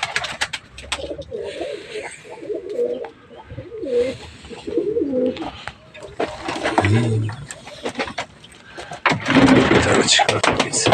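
Domestic tumbler pigeons coo in low throaty bursts nearby, interrupted by a man calling out, ending in a loud rush of flapping wings as a bird takes off.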